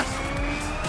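Car drifting in the Xenon Racer racing game, with a steady engine drone and tires skidding and squealing in one continuous loud sweep. No one talks.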